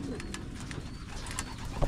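Pigeons coo in a wooden loft aviary, soft low repeated coos close by with a few faint chirps, continuous over a quiet background.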